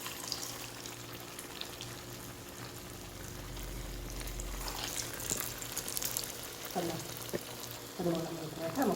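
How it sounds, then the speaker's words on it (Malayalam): Sweet potato fritters sizzle in hot oil with a steady crackling hiss, close by, while a few clinks and a scraping utensil sound toward the end. "അതും കൂടി ഇതേപോലെ നമുക്ക് ഇട്ട് കൊടുത്തിട്ട് ഒന്ന് പൊരിച്ചെടുക്കാം"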